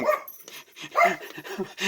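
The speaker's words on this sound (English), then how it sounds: "the dog is barking" A dog barks repeatedly indoors in short, uneven bursts, fairly close and loud, with a few whimpery yips between barks.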